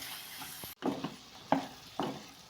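Chicken sukka, Kerala style, cooks with tomatoes in a pan. A soft sizzle runs under a few distinct stirring scrapes and clinks of metal on the pan, with a brief sharp break partway through.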